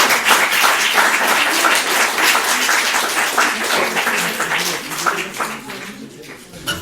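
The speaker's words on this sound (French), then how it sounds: "on applaudit" Sustained applause from an audience at a talk on philosophy and rock music, dense steady clapping throughout, tapering slightly near the end.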